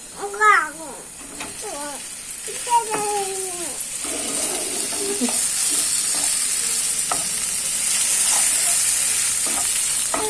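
Grated boiled potato is stirred into a hot frying pan while making fish chops. A continuous sizzle runs beneath scraping stirs, and a cat meows several times near the start.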